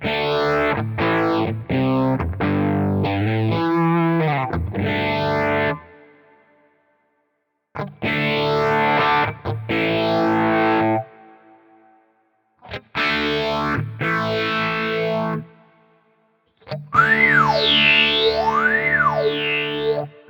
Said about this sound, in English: You're getting that more of that high-end kind of synthesizer sound to it.